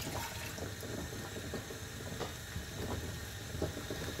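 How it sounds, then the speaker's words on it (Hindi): One cup of water poured into a pan to start jelly for a mango fruit custard trifle, a steady splashing, gushing stream filling the pan, fairly close, with no talk. "1 कप मैं पानी इसमें डालूंगी।"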